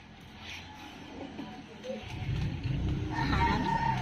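A chicken clucks and calls a few times at close range, with a person talking intermittently and outdoor background noise throughout.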